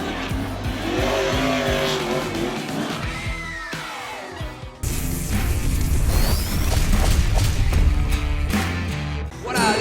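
Race cars at the Grand Prix de Trois-Rivières street circuit roar past loud and close, engines rising and falling through gears, with tire squeal and a sharp cut in sound midway before another car howls by.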